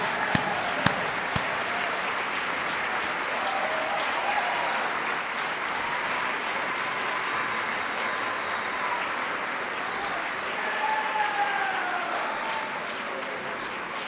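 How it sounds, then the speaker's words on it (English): A high school fine arts festival audience gives sustained applause honoring music and art teachers, a long, even roar of many clapping hands with a few sharper claps up close and faint crowd voices beneath. "I'd like to ask all the music and art teachers who are here to please stand and accept our onerous"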